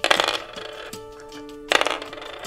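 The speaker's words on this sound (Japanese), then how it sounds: "野島さん、こちらのサイコロ仕掛けがないことを確認していただいて、はい、それで仕掛けがないと分かったら全部振っちゃってください" Several dice tossed onto a table during a close-up magic prediction trick make a close, sharp clatter in two bursts, one at the start and one near the end, with a brief ringing tone lingering between them and no voices.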